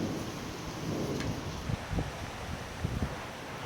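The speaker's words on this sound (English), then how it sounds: "The 60-mile-per-hour winds have now arrived, and it has started to rain." A thunderstorm over Dallas, Texas, brings steady rain and roaring 60-mile-per-hour wind gusts, a dense continuous wash buffeting the microphone, with a few low thumps and rumbles rising near the end.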